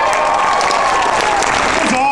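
Dense applause from a comedy competition crowd on a campus, a loud sustained wash of clapping filling the whole moment without a break.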